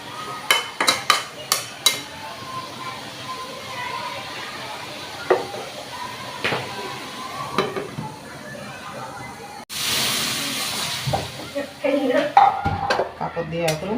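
Hilsa fish and eggplant curry with spices is stir-fried in a pan, with a spoon clanking and scraping against the metal in irregular strokes and a soft sizzle, while someone talks throughout.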